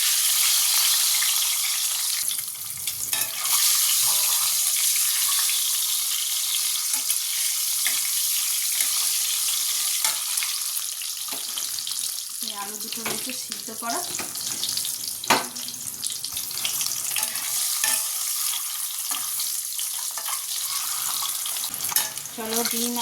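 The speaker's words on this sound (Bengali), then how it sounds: "তেলটা তো গরম হয়েই গেছে এবার এর মধ্যে ডিমটা ভেজে নিচ্ছি" Steady, loud sizzling of eggs frying in hot oil in a pan, continuous throughout with occasional stirring scrapes and no talking.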